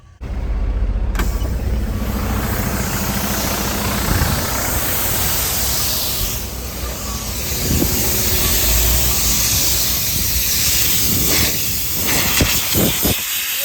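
Compressed air hisses continuously from a leaking brake chamber on a semi truck at the roadside, a loud, steady close rush with some shifting and faint knocks in the background.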